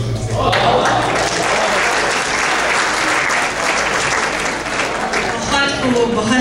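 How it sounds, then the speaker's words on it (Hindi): Enthusiastic, sustained applause from the audience at an Urdu mushaira poetry gathering in Richardson, Texas, a dense, loud wash of clapping that carries steadily through the whole stretch. "बहुत खूब पुरजोश तालियां हो जाएं"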